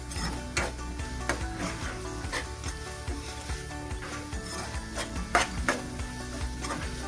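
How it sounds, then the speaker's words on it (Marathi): Cluster beans sauté in oil over high heat in a pan, with a soft sizzle under repeated close scraping and knocking of a spatula as they are stirred. "मी आता ही चांगली तेलात भाजून घेणार आहे"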